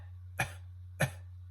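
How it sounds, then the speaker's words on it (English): Two deliberate light, short coughs during a music class exercise, about half a second apart, close and soft, over a steady low hum. "do a light little kind of a baby cough"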